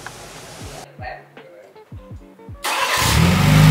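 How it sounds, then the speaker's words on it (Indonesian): Morgan Plus Four engine cranks in a few short stuttering bursts, then catches and settles into a loud, steady idle by the end. "kita tekan engine start, agak lama sedikit."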